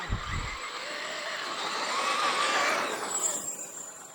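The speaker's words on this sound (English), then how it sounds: "I have got my Traxxas X-Maxx 8S all powered up" A Traxxas X-Maxx 8S RC truck launches hard, its electric motor giving a rising high whine after a brief low thump at the start, sustained for a few seconds and easing off at the end, with no voices.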